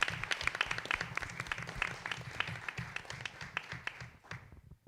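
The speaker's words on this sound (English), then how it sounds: "Let's give Carol a round of applause." An audience at a school board meeting gives a round of applause, a steady patter of many hands clapping at moderate distance that tapers off toward the end.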